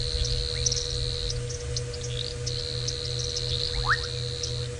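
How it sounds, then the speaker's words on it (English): Bubbling kassina and painted reed frogs call together at sunset on an African safari drive: a steady chorus of sustained, ringing tones with scattered chirps and bubbling notes, carrying on throughout against a low background rumble. "I love the sound of that bubbling cassina."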